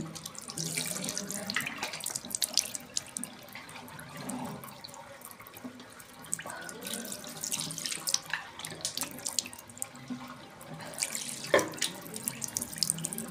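Tap water runs steadily into a sink while someone washes their face, with intermittent splashes and louder bursts of water over a continuous flow.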